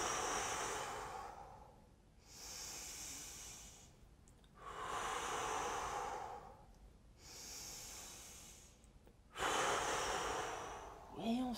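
Deep, long exhalations during a singing warm-up stretch, a steady rhythm of breaths in and out repeating about four times, close and fairly loud, with no voice over them.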